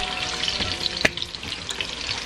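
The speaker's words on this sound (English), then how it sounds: "I'm gonna fry the onions for a little bit" Onions frying in hot oil in a pan, a steady crackling sizzle with a sharp pop or utensil tap midway, close and unbroken by talk.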